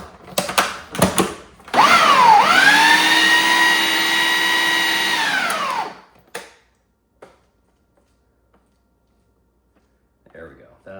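A kitchen blender runs one long continuous whir of about four seconds, chopping basil pesto with minced garlic and garlic oil. The motor spins up, holds a steady pitch, then cuts off, framed by short clunks and handling noises.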